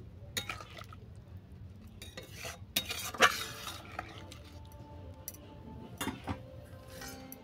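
Meat masala being stirred into a fish curry of rani fish in a pan, with a spoon scraping and clinking against the metal in irregular strokes over a low sizzle, close and moderately loud, with no talking.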